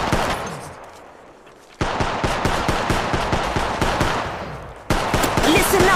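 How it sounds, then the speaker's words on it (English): Rapid automatic gunfire from Apex Legends Mobile in a steady rattling burst, a brief lull, then dense repeated shots for several seconds, loud and close with distant reports mixed in. "Listen up, I'm getting shot at."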